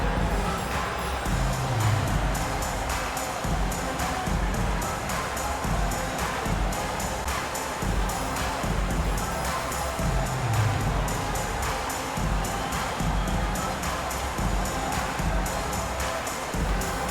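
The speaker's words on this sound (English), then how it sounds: "Nice round of applause for your second." Steady crowd noise fills the arena in a basketball video game, a continuous wash of applause and cheering at an even level without clear voices.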